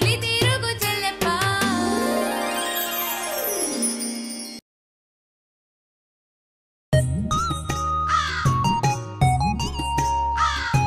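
Cartoon-style crow caws ring out in an animated children's nursery rhyme, loud and bright, mixed with tinkling chimes and music, broken by a sudden two-second silence before the sounds return.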